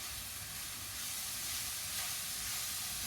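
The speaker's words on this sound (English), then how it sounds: "The leek has been cooking for about 5 minutes" Chopped leek sweats in a covered pan, giving a steady, even hiss of gentle steam and soft sizzle that holds without a break for a few seconds, with no talking.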